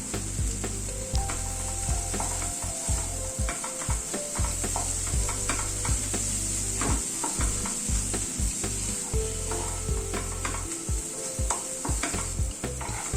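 Coorg-style curry masala sizzles in a hot pan with tomatoes and paneer while a spoon stirs and scrapes steadily, the frying hiss continuous and close, with occasional clinks of utensil against metal.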